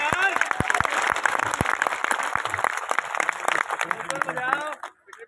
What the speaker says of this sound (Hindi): एक बात जोरदार ताली बजाइएगा